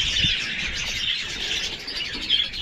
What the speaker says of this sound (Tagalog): Yung mga ibon natin mga kaprobinsya oh.